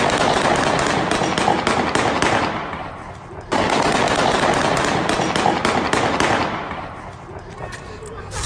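Rapid automatic gunfire bursts rattle loudly and continuously, dropping briefly before a second sustained volley; no speech over it.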